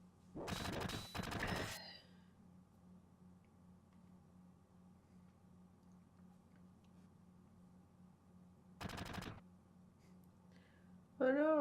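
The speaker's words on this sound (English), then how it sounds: "Oh no, someone shot Zack." Gunfire in the Final Fantasy VII video game as Zack is shot: two short loud bursts of shots near the start, another burst around nine seconds, and a steady low game hum beneath, with a voice briefly heard at the end.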